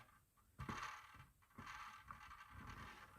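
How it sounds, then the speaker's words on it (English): Camera tripod being tightened, giving brief mechanical creaks and ratcheting clicks in two bursts against a quiet background, with no talking. "Tightening up the tripod there."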